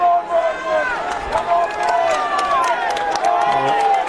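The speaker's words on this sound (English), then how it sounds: "Raucous home crowd really getting behind the Galloping Greens here." A home crowd at a colts rugby grand final, Randwick versus Sydney, roars and cheers in a steady, loud wash of voices, with a commentator talking over it.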